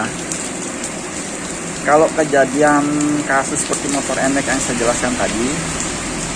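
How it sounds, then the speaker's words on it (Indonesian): Heavy rain pours down steadily during the rainy season, a constant hissing wash in the background while someone talks over it. "Nah, tuh lihat kalian, hujannya mulai deras lagi."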